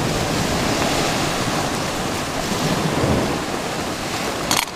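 Surf breaking on a beach on Hawaii's Big Island, a loud close rushing wash of water that swells and fades, with a brief sharp noise near the end.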